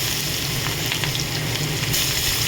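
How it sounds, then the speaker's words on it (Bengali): Onions browning in hot oil with fried bhetki fish bones, a steady close sizzle with light stirring scrapes through the whole stretch, no voices. "এবার পেঁয়াজটা ব্রাউন কালারের করে ভেজে নেবো"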